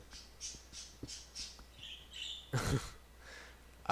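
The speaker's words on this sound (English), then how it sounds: "there's like birds in here" Birds squawk in a Minecraft world, a string of rhythmic raspy calls followed by one louder, harsher squawk, close and alone.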